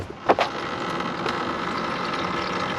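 Old water without antifreeze draining from a Mercedes W123 radiator, a steady faint trickling gush after a brief clunk at the start.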